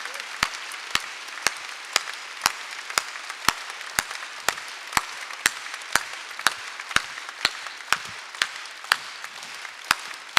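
At a Sunday church service, a congregation claps together in a steady, even rhythm, with sharp claps about twice a second over a soft wash of room noise.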